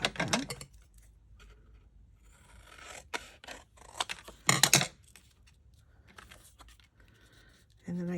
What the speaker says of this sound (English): I will cut that.